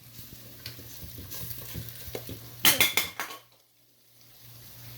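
Masala frying in oil and ghee for a baingan chana masala, with a steady sizzle under repeated scraping and clinking of a spoon against the pan, a louder burst of stirring near the end, then quiet.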